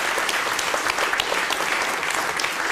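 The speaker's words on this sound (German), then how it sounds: "ein schöner Applaus zum Schluss" Steady audience applause at the close of a German TV cabaret show segment, dense and continuous clapping from a studio crowd, fairly close and full, with no talk over it.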